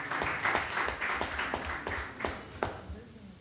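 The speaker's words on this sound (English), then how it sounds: "Round of applause for Aditi." Sparse applause from a small audience at a youth presentation event, with a few scattered claps and taps ringing out over a murmur of background chatter for a few seconds.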